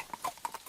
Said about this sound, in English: The horse high steps, hooves clopping on a different surface